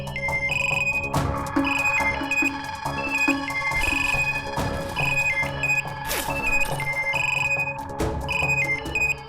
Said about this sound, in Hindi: कहीं बेल बज रही होगी, देखो जरा